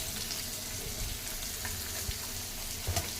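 Onions frying in a pan for gongura biryani, heard as a soft, steady background sizzle with a few faint knocks near the end and no talking.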